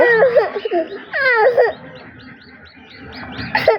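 Newly hatched chicken chicks, hatched under a pigeon, give loud, close peeping chirps in quick bursts, then softer repeated cheeps trailing off, with a person's voice faintly underneath.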